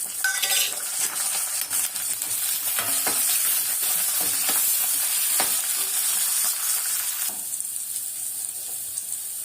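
Dried red chillies and a clove of garlic fry in hot oil, a bright continuous sizzle with scattered clinks and stirring scrapes, close, easing off near the end.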